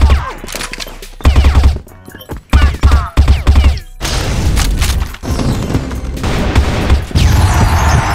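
Rapid bursts of rifle fire in a video game, an M4-type weapon, loud and close, several volleys separated by short gaps with booming impacts and a dense noisy stretch of continuous firing.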